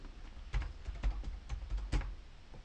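A value tapped out on a computer keyboard into a spreadsheet cell, a handful of distinct close keystrokes in an uneven rhythm with a few louder presses.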